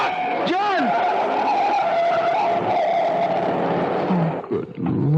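A truck skids hard with a long, loud tire squeal sustained for several seconds under a heavy engine rush, ending in a brief jolt; a voice shouts at the start.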